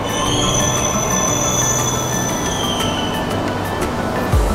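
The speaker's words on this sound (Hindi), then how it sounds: "ट्रेन आ चुकी है" A Mumbai Metro Line 7 or 2A train pulls into the station with a steady loud roar and high squealing wheels that slowly fall in pitch, ending in a short low thump.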